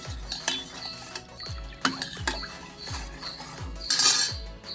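Buttermilk stirred with salt and asafoetida for mor kuzhambu, a spoon clinking and scraping against the vessel in irregular close taps with liquid swishing between them, fairly quiet and with no talking.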